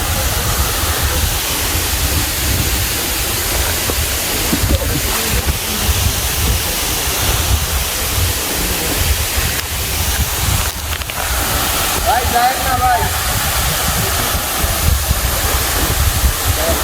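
The Jingsiam Saitar waterfall in Bandarban pours in a continuous, loud rushing roar, close by, with faint scattered noises beneath it.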